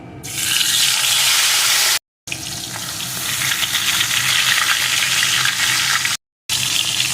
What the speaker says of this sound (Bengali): এখন এর ভিতরে লবণ হলুদ মাখানো মাছের মাথা দিয়ে প্রথমে ভেজে নেব